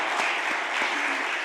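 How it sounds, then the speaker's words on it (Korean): A church congregation at a Korean church workers' retreat applauds the praise team: a short burst of dense, continuous clapping, loud and close, filling the whole moment. "우리 찬양팀 박수 한번 해주세요"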